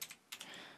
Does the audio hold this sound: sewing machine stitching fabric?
no